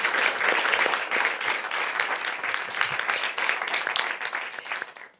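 A theatre audience at a post-show debate for the play Malatu in Capu applauds the adaptation's author with warm, continuous clapping that stays strong for several seconds before tapering at the end.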